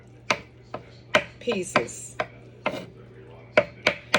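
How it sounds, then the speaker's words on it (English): A knife chops giblet gravy ingredients on a cutting board in a dozen sharp, close knocks at an uneven pace, with a brief scraping sweep midway and a spoken word near the end. "I'm just chopping them up in fine"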